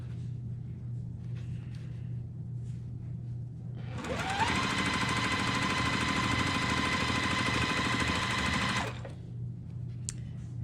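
A sewing machine stitches a quilt block seam in one loud, rapid, even burst of a few seconds, which stops cleanly, with a quiet hum before and after.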